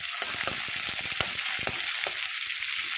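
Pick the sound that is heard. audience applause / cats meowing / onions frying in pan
onions frying in pan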